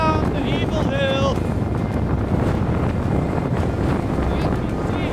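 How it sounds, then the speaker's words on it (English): Strong blizzard wind roars across the microphone on the trail at Trolltunga, Norway, a loud, constant buffeting gust noise with no break, close and rumbling. "I want more wind. Give me more."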